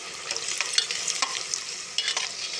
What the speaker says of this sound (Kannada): ಒಣ ದ್ರಾಕ್ಷಿ ಅದು ಸಹ ಹಾಕ್ಕೊಂಡು ಫ್ರೈ ಮಾಡ್ಕೊಂಡು